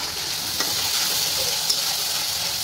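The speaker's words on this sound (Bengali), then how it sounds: "মশলা কষানো হয়ে গেছে, এখন ইঁচড়টা দিয়ে দিব" Boiled jackfruit and cooked spice paste frying in a pan make a steady, close sizzling hiss with a couple of faint stirring clicks.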